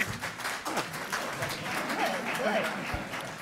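An audience at a Columbus Metropolitan Club forum on teen homelessness claps in a brief, patchy burst of broadband patter that runs beneath continuing speech throughout.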